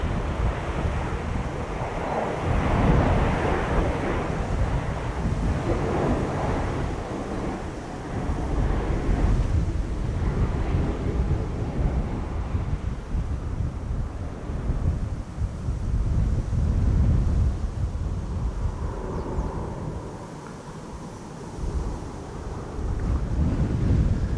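Strong wind at Schiphol Airport buffets the microphone with a steady, heavy roar that swells and eases in gusts for over twenty seconds, with no voices.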